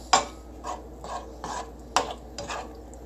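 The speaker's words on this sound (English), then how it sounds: "you let that go, and you squeeze in some tarragon vinegar. You just stir that all together," Olive oil and tarragon vinegar are stirred together in a pan, making about six close, raspy scraping strokes at a regular rhythm over a low background hiss.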